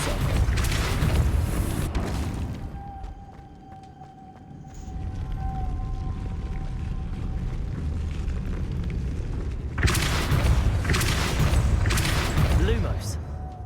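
Depulso spell cast in a wizard video game; loud, crackling broadband blasts open and close the stretch, with a quieter hum and a faint steady tone between them.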